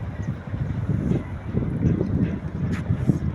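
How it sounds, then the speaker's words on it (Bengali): Strong cold wind on a winter morning by a riverbank where ferry trawlers cross, a continuous rough rumble buffeting the microphone, loud and close, with faint distant sounds above it. "ঠান্ডা আজকে অনেক বাতাস হচ্ছে"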